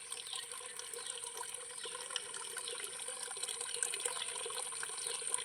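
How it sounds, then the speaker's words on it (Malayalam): Fresh water pours into a pond during cleaning, a quiet, continuous splashing trickle that holds steady throughout. "പുതിയ വെള്ളം വന്നല്ലോ ഡിങ്കിരി ഡിങ്കോ."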